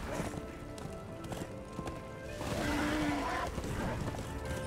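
Rhythmic hoofbeats of a galloping horse in Darksiders 2 drum along with a faint whinny midway, set against a muffled ambient background, no clear talking.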